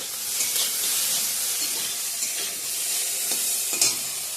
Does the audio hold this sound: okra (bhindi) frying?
yes